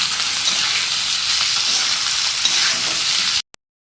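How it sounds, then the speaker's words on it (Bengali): Carrots and beans fry with a little salt while being stirred, giving a loud, continuous close-up sizzle that cuts off abruptly, followed by a single click. "এগুলো একটু হালকা করে নাড়াচাড়া দিয়ে ভাজা ভাজা করে নিলাম"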